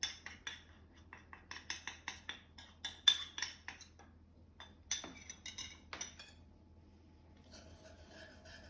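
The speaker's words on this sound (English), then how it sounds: "And just whisk it in." Whisk scraping and clinking against a metal pot while turmeric is stirred into vegan Malaysian laksa, a quick series of close, sharp metallic taps and rasps that thin out and stop toward the end, with no talking.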